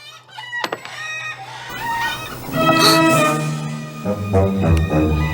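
Animated cartoon chickens cluck loudly and a rooster crows, the calls overlapping and layered close by, with no talking.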